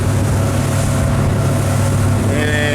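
Inflatable motorboat running at about 30 knots on calm open sea, a steady loud low engine drone with broadband hull and wind rush throughout, a faint higher tone entering near the end.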